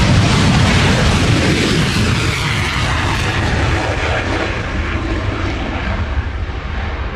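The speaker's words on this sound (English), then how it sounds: "It's the brilliant F-22 Raptor display." An F-22 Raptor fighter jet at an air-show flying display, a loud, broad jet roar that stays powerful throughout and eases slightly toward the end.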